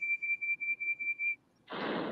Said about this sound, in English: This time, Percy blew his whistle with all his puff and power.